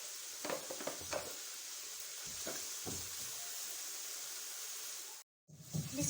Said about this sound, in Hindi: सब्जियां हल्की सी फ्राई हो रही हैं